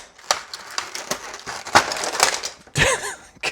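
A badly damaged cardboard box holding a Thor action figure is pried open with a series of crinkling, crushing and tearing sounds, close and fairly loud, in uneven bursts.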